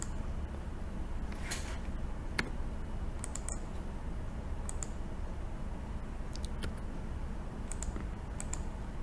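Keys on a computer keyboard clatter in scattered, uneven bursts of light clicks while someone types values into a database table, sounding fairly close over a steady low background hum.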